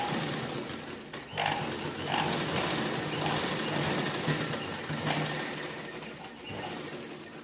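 A sewing machine stitches a small shirt pocket, its steady mechanical whir running close and continuous with slight dips in pace.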